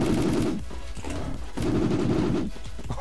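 Rapid automatic gunfire in a video game rattles in dense bursts, separated by short pauses, loud and close with no talk over it.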